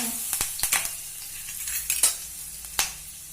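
Curry leaves sizzle in hot oil with asafoetida and turmeric for triangle poha cutlets, a soft continuous frying hiss broken by several sharp crackles and spatters, close and fairly quiet, with no talk.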